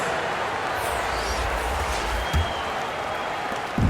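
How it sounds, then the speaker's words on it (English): Video-game crowd applause during a timeout at a Los Angeles Knights home basketball game, honoring the team's dancers: a steady, even wash of clapping and crowd noise with no single voice standing out. "let's give some applause for your Los Angeles Dancers"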